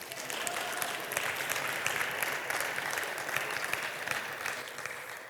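A church congregation gives sustained applause to the Lord, a dense, even roar of many hands clapping that holds steady throughout.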